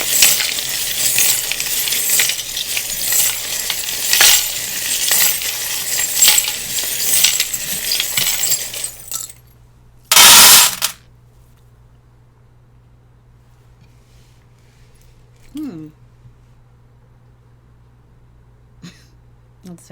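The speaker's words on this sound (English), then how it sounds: "I'm going to start shuffling in 3, 2," Tarot cards shuffled by hand for about nine seconds as a steady, dense papery riffle, ending in one short sharp clatter, followed by near silence with a few faint small sounds.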